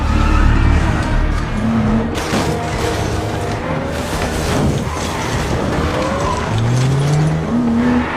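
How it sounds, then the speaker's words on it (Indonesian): A car chase from an action film, with engines roaring and tires squealing in drawn-out skids, loud and continuous, with a faint voice briefly underneath. "Film diawali dengan diperlihatkannya aksi kejar-kejaran mobil yang cukup menegangkan dan masuklah ke suatu gang"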